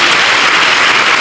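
An audience claps at a 95th Makayiram birth-star festival celebration. The applause is dense and steady, filling the short stretch at even loudness with no voices.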